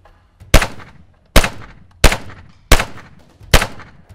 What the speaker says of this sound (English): I want you to shoot 5 shots.